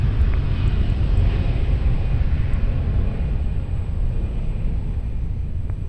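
A passenger airplane taking off at Lisbon Airport, a steady loud low rumble of jet engines that holds throughout, broad and continuous with no voices.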